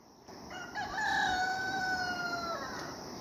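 A rooster crows once in a rural Nepali village, a clear drawn-out call rising and then holding, heard at moderate distance over a soft outdoor background.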